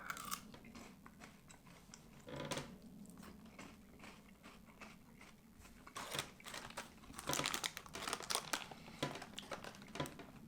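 Someone eats a hard, crispy strawberry-flavoured Japanese snack; close, quiet crunching and chewing in bursts, without talk.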